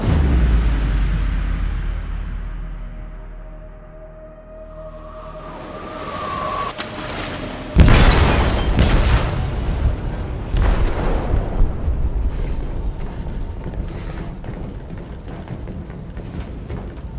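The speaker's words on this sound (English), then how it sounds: "They detonated an explosive in the hold." An explosive detonates in a ship's hold in Detroit: Become Human, a sudden loud boom that cuts in after quieter rumble and rolls on as a long, heavy rumbling aftermath with scattered crashes.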